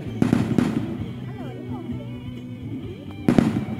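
Sharp gunfire bursts during a Thai army battalion military exercise, two close cracks early and another pair near the end, with voices talking in between.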